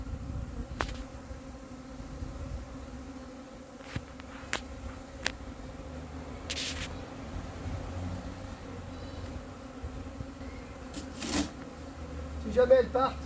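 A swarm of honey bees hums in a continuous, low, even drone close by, with occasional sharper buzzes of single bees passing near and faint handling noises in the background.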